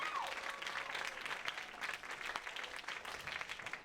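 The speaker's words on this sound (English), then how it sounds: "A round of applause for what this guy's doing." Applause at an Asian awards night, a moderate crowd clapping with distinct individual claps audible, somewhat distant and uneven, fading a little toward the close.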